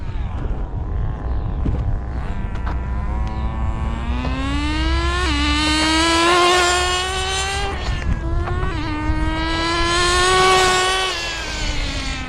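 Kyosho FW-06 nitro RC car engine on a 2-speed chassis, running rich while warming up, a high buzzing whine that rises and falls in pitch as it revs past nearby.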